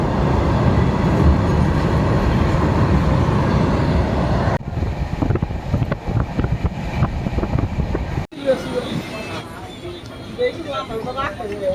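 The Dhauli Express rumbles along the rails in a loud, continuous roar heard from on board, and the sound shifts abruptly partway through as the surroundings change, with a person talking over the running noise.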